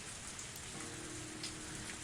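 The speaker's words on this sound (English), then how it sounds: "As the rain came down on me" Steady rain from the visual novel game Higurashi: Tatarigoroshi Hen, a soft continuous patter of drops on a surface, even and faint throughout with no voices.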